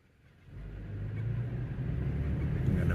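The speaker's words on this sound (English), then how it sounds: "I'm gonna do a little test drive here." A Toyota Tacoma pickup truck with a rear-end clunk fault on a test drive, with a quiet start and then a steady engine rumble as the truck pulls away and accelerates, heard from inside the cab.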